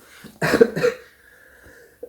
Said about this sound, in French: Et je tousse encore.